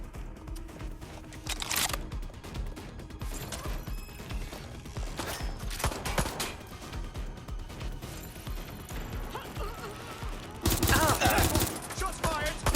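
Gunfire in Watch Dogs Legion, with bursts of shots, crashes and clattering impacts through most of the stretch and a loud burst near the end.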